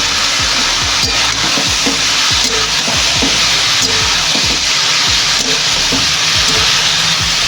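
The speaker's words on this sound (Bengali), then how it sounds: "এবার লাউগুলো দিয়ে দেবো, মাছের মাথা দিয়ে লাউ ঘন্ট করবো।" Bottle gourd pieces frying in hot oil with tempered spices for a Bengali fish-head lau ghonto, giving a steady loud sizzle with repeated low clattering knocks of stirring throughout.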